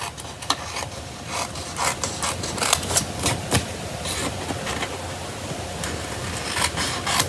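Scissors snipping off the excess edges of a card flap, a steady run of close, dry rasping cuts through paper with a few sharper snips, no talking over it.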